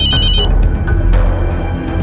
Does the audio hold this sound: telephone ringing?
yes